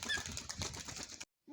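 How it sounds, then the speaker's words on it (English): A pigeon's wings flap in a quick, close burst of fluttering for about a second as it takes off, followed by sudden quiet. "I'm gonna fly the pigeon."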